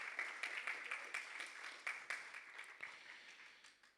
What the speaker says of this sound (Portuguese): Pode aplaudir para Jesus e para a sua palavra.